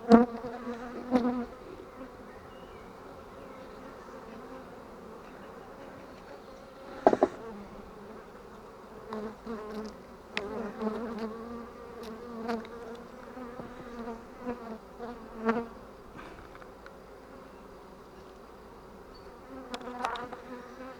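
Honeybees buzz steadily around an open hive as frames are lifted and inspected after rain, a close, continuous drone with a few louder passes and knocks of the frames.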